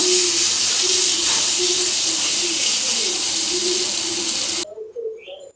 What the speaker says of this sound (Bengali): এবার আমি ভর্তাটা দিয়ে দিব সামান্য একটু ভেজে নিব